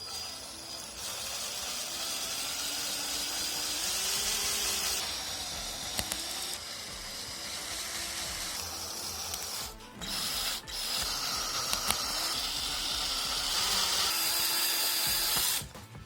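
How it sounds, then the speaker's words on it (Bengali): A power drill fitted with a 150 bit bores holes through wooden boards for a homemade 450mm quadcopter frame, whining steadily and close, with brief pauses and bit changes partway. "তো ফার্স্টে আমি এই বোর্ডগুলো হোল করছি"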